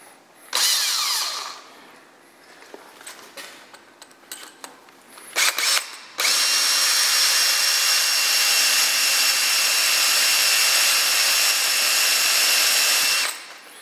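A power drill with an M8 tap-drill-size bit bores into soft metal studs, starting with short whirring bursts and then settling into a long, loud, steady whine that runs for several seconds before cutting off.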